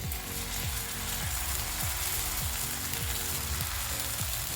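Batter poured into a hot, lightly oiled pan for a sweet corn breakfast dish sizzles and crackles steadily and loudly up close, with a broadband hiss and faint repeated scraping under it, no talk.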